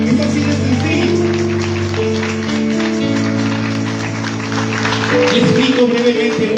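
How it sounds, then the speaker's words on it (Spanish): Church congregation applauds in thanks to God during a sermon by Pastor Alejandro Rodríguez, the clapping a broad wash sitting under sustained organ or keyboard chords that fill the whole stretch. "darle un aplauso a Dios por eso"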